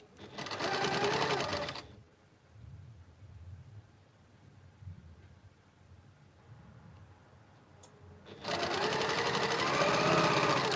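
A domestic sewing machine chain-pieces quilt block patches, with a loud, fast, steady whirring burst that stops, a quiet stretch of faint handling and low thumps, then another long run of stitching.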